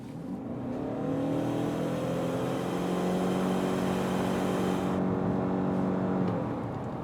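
A Ford Maverick Lariat hybrid pickup accelerates hard in sport mode, its engine note a steady, rising drone heard from inside the cab that holds for several seconds, then eases off near the end.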